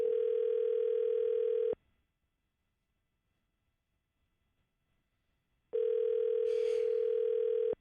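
Telephone dial tone on a studio line, a steady loud hum that cuts off into silence for about four seconds, then returns with a brief faint noise over it.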